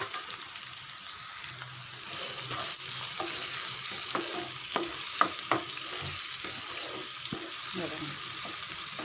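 Green chillies and a dried red chilli fry with tomato in a pan for an egg fry, giving a steady close sizzle with spatula scrapes and light taps against the pan throughout.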